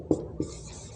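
Two short, sharp strokes of writing on a board during a language lesson, spaced a moment apart, close and fairly crisp, with quiet room tone between and no speech.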